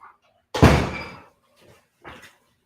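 Door swinging open and shut to let a cat in: a loud close thud followed by fainter knocks and bumps, with brief quiet between them.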